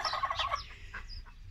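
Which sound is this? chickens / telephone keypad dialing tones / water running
chickens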